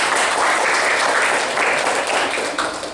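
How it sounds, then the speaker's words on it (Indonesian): Applause from a classroom of students fills the room, a dense, steady wash of many hands clapping at close range that thins slightly toward the end. "Oke, kasih tepuk tangan untuk kita semua."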